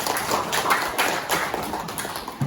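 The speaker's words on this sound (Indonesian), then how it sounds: "berikan aplaus dulu untuk mereka" Applause from a classroom audience for presenting student teachers during a physics lesson in Papua, a dense patter of many hands clapping steadily throughout, moderately loud and close.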